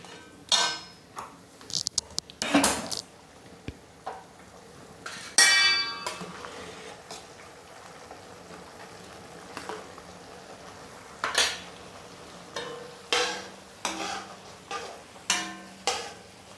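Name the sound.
stirring yogurt with tomatoes while frying in a pot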